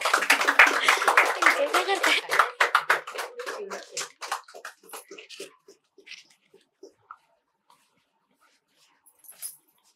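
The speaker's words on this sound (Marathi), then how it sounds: "जोरदार टाळ्या" An audience at a Ganpati home-decoration competition prize ceremony in 2024 gives a burst of brisk, loud clapping that thins out into a few scattered claps and then fades to quiet, with a voice heard in the room.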